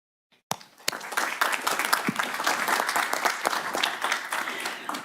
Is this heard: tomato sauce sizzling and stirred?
no